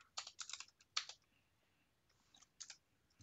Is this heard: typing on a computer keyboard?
yes